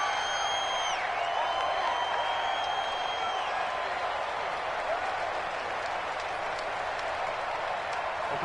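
Stadium crowd noise from a PS4 American football video game, a dense, steady roar of applause and cheering that stays loud and constant throughout, with faint whistle-like tones early on.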